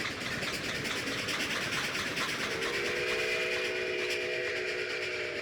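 A train passes nearby, a steady heavy rumble and roar, joined midway by a sustained steam-style whistle tone that holds to the end.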